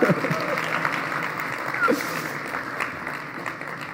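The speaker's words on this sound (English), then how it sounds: "You can applaud, no problem." Scattered audience applause at a Xiaomi Mi A1 phone launch event, continuing at moderate volume, with a few faint voices and sounds mixed in.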